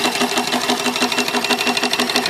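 Small steam engine fed by a boiler running steadily, a fast, even mechanical chugging and clatter filling the foreground for a couple of seconds with no voices.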